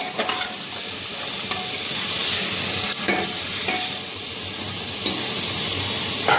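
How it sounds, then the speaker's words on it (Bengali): Mixed vegetables sizzle steadily in a hot pan, with a spatula scraping and stirring through them at irregular intervals; the frying hiss stays constant and close throughout, with no talking. "সব সবজি দিয়ে দিয়েছি, একটু নাড়াচাড়া করে নিই"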